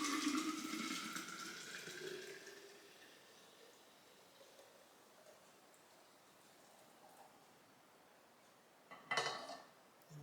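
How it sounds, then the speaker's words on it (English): Homemade almond milk poured into a jar makes a steady liquid pour that starts fairly loud and fades, ending with a brief clatter near the end, with no talking. "is pouring my fresh homemade almond milk into my jar."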